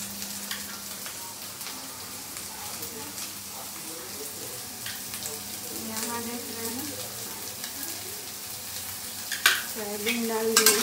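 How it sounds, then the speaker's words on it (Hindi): Onion, green chili and tomato frying in a pan, with a steady close sizzle and intermittent stirring scrapes, growing a little busier toward the end; a voice talks lightly in the background at times. "इसको भून देंगे अभी।"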